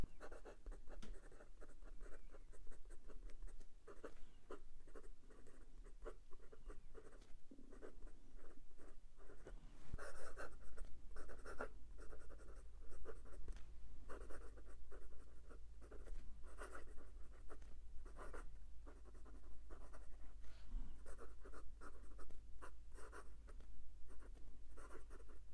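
A PenBBS calligraphy fountain pen nib writes on paper, giving a steady, close scratch of strokes with some feedback, continuous for the whole stretch with no talking.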